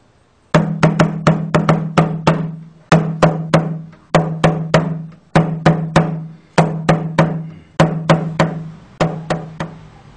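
Frame drum played in a three-beat rhythm: groups of three sharp hand strikes, each a booming low thump, repeated about eight times with short pauses between groups, close and loud with no voice.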